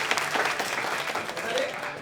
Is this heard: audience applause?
yes